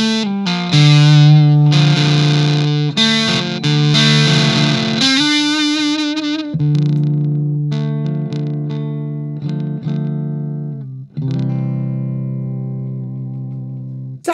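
Electric guitar through an Electro Harmonix Satisfaction Plus fuzz pedal, with its bias control changing the tone. Thick, heavily distorted sustained chords and notes ring out loud and alone, broken by brief pauses and ending on a held chord.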